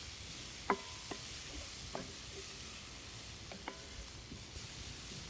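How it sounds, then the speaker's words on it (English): Onions and garlic frying on high heat in a pan, a steady soft sizzle with a few light scrapes and taps of a stirring utensil, quiet and without talk. "So we're still on high, but we're stirring pretty regularly, if not consistently."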